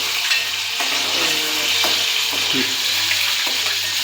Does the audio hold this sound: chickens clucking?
no